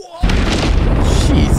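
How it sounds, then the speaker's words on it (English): A daisy cutter bomb detonating in the video game Arma 3, a sudden massive boom that swells into a sustained deep rumbling roar, loud and close, filling the whole moment. "Oh, there's a daisy cutter."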